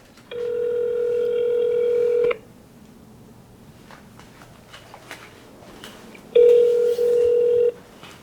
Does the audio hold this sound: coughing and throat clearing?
no